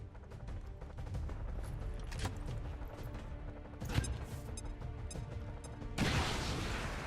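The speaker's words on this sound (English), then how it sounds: "Throwing grenade." A grenade thrown during an XCOM 2: War of the Chosen supply raid mission, mechanical clicks and battle clatter under game noise, then a sudden loud explosive blast with debris rush at the end.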